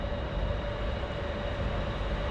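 Bangkok City Line airport rail train pulling into a platform, a steady low rumble with a faint sustained tonal whine, fairly loud and continuous for a couple of seconds.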